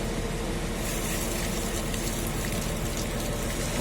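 Rinse water pours out of a freshly washed tank through its augers in a steady, continuous broadband rush with a low rumble beneath, holding constant and moderately loud with no talk over it.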